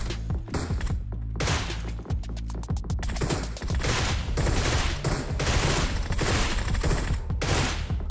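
Loud, dense PUBG Mobile gunfire fills a tense firefight: rapid automatic bursts from AUG and Groza rifles crackle almost without pause, with sharp individual shots and occasional thumps layered close together, no talk over it.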